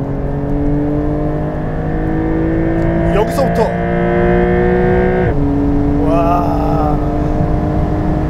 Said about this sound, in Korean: 엔진 사운드 한번 쭉 시원하게 듣고 다음 섹션으로 가볼까요?